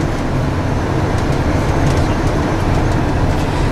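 A White Pass Scenic Railway train running through a mountain pass near Skagway gives a steady, loud rumbling roar with faint rhythmic clatter, heard continuously throughout.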